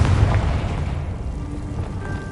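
Confringo blasting spell exploding in a video game, a deep low boom with rumbling tail filling the short moment, loud and close with no talk over it.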